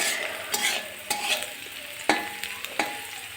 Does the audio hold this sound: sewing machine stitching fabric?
no